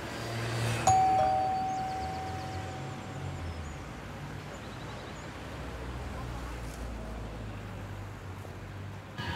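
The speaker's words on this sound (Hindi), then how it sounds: "घंटी बजा के देख लेते हैं, हो सकता है यही हो" A doorbell rings once at a house, a single clear electronic tone that sustains and slowly fades, heard over a steady low background hum with faint rustling.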